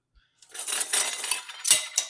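Pots and dishes clattering in a kitchen while red onions are pickled, a brief burst of metallic clinks and knocks after a moment of quiet.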